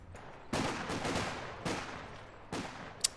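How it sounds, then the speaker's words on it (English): Sniper rifles fire in a video game: three loud, sharp shots spaced about a second apart, each trailing off in a long reverberant decay, followed by a brief click at the end. "So we're going to see a sniper battle"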